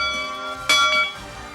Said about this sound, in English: Always wanted to ring the bell?